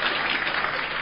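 A crowd claps steadily and densely throughout, filling a live crosstalk comedy show at Deyunshe's Sanlitun theatre in 2012.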